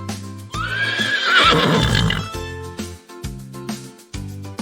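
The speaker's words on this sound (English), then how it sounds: "It makes the sound neigh" A horse lets out a loud, close whinny that rises and shakes, followed by snorts and clattering hooves.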